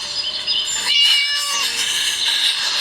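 A cat in the video game Scary Teacher 3D lets out loud, drawn-out, wavering meows, heard clearly on their own.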